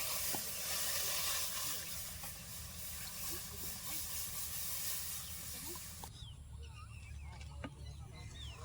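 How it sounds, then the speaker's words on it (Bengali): A soft steady hiss of milk heating and starting to boil in a pan, continuing throughout, quieter after a sudden change partway through. "দুধ কিন্তু ফুটতে শুরু করে দিছে"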